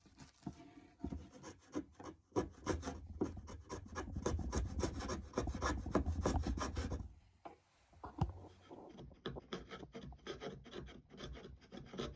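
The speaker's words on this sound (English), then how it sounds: "So I'm stripping all the veneer off the side of this bit of wood that come out the edges now." Wood veneer being stripped off the edge of a board makes close, rhythmic rasping scrapes in quick repeated strokes, with a brief pause before the scraping resumes more lightly.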